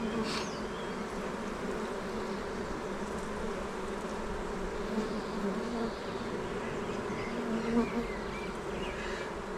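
Dense, steady buzzing of a large mass of honeybees during a shook swarm, a beekeeping manoeuvre in which bees are shaken from their combs, continuous and close throughout with no voices.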